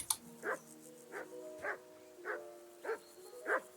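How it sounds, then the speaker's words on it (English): Repeated dog barks from a game dog in Kingdom Come: Deliverance II, six sharp woofs at a steady, roughly half-second-to-second rhythm, fairly close and clear over a faint tonal background. "Do something with that mutt, Henry."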